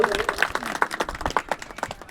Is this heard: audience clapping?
yes